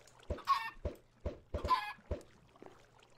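Chickens in the Minecraft video game cluck in short bursts, several clucks spaced across a few seconds at close range, fairly quiet, with no talk over them.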